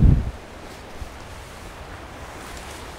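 Outdoor wind rushes steadily as a soft, broad roar at moderate level, opening with a brief louder buffet against the microphone, with no voices.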